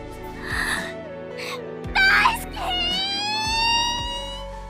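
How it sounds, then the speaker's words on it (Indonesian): Anime girl crying with wailing, whimpering sobs and gasps over a soft background music score, her voice rising into a louder sob midway before settling into sustained moaning cries. "Koga mulai menangis dan mengungkapkan isi hatinya."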